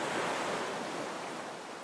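Ocean waves in the video game Honkai Star Rail, a soft, broad rushing wash of surf that swells and slowly fades, distant and quiet with no voices.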